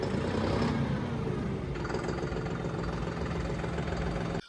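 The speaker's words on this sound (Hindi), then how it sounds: "लगता ही नहीं कि 1500 RPM पे ट्रैक्टर पहुंच गया" A John Deere 5405 4WD CRDI tractor's diesel engine runs steadily at high revs, around 1500 RPM, a loud constant rumble with no talking, cutting off abruptly at the end.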